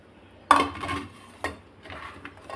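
Onion goes into a metal pot for village-style pulusu: a sharp metallic clank, a scrape of a spoon against the vessel, then lighter clinks and stirring, close and alone.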